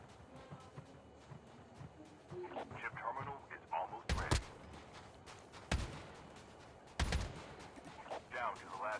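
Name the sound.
gunfire in Call of Duty Mobile video game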